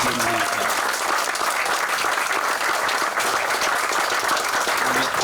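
An audience at the Bayou Chene floodgate ribbon-cutting ceremony applauds for Ignacio, a dense, loud, sustained round of clapping throughout, with faint voices mixed in.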